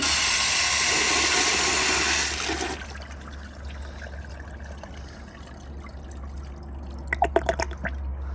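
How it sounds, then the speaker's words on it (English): A 2007 American Standard Allbrook urinal flushes with a loud rushing surge of water that cuts off after about three seconds, followed by quieter trickling and dripping refill, with a few faint clicks near the end. "here's another flush"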